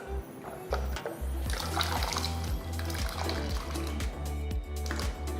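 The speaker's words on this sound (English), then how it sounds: "Take a pot, add enough water to cook the potatoes." Water running steadily into a cooking pot for boiling potatoes, a continuous close pouring and splashing sound that holds throughout, with a faint voice in the background.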